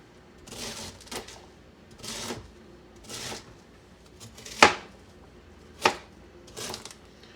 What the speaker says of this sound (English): Okay, so we're going to cut this into more manageable slices,